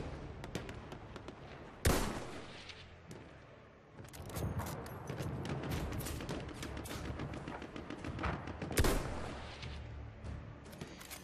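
Gunfire crackles through a shooter game match, a steady stream of rapid shots and bursts with sharp louder blasts near two and nine seconds, close and fairly loud throughout.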